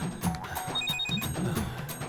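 A phone rings in short electronic bursts, a repeating high ringtone over a busy background of voices and household noise.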